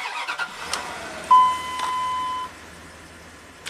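A Ram pickup truck with cam and crank sensor faults starts up, a short cranking burst catching into a steady idle, with a high whine and a chime tone over it before the engine note drops away.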